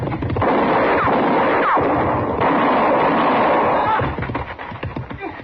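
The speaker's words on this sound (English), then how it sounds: "he was shooting mighty close" Gunfire in an old-time western radio drama, a dense, loud burst of shots and noisy blasts that fills most of the clip before easing off near the end.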